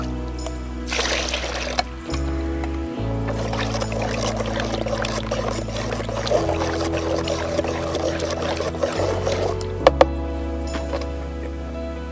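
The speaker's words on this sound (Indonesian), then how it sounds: "kemudian kita tambahkan air sampai penuh" Water poured into a fungicide sprayer tank as it is filled, a continuous gurgling, splashing pour with shifting tone, close and fairly loud, with a few faint knocks and no speech.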